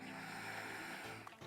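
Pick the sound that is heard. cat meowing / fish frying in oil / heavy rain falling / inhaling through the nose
inhaling through the nose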